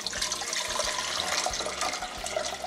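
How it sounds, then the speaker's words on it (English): Water pours steadily into the bottom of a steamer pan on a stove, a continuous close splashing rush lasting a few seconds without talk. "first I'm going to pour about 2 inches of water in the bottom of the steamer pan."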